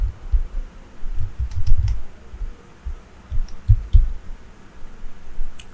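Keys clatter on a computer keyboard while a web address is typed into a site search, a scattered run of soft clicks in irregular bursts, close and moderately quiet, with no talking.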